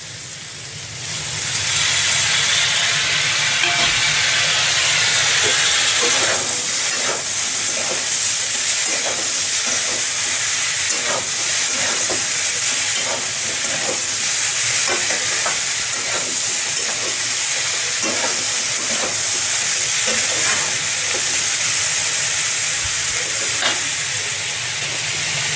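Chopped tomato dropped into a hot pan of frying vegetables for a Bengali paneer dish. A sudden loud sizzle fires up, then settles into a steady close hiss of frying with scraping stirs throughout, and no voices.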